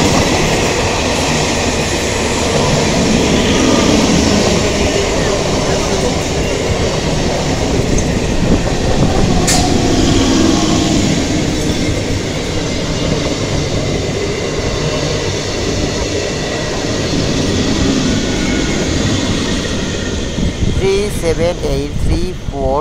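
A Bardhaman–Howrah down local train at Chandannagar railway station, rumbling steadily and loudly for the whole stretch, with wheel clatter, a brief sharp squeal midway and some voices in the background.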